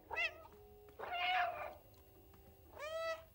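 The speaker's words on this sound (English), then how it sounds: "Oh, just meow a lot." A cat in the video game Stray meows three times in short, clear, separated calls, close and fairly soft with no talking over them.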